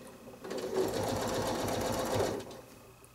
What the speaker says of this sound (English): or slow down your machine with your foot pedal.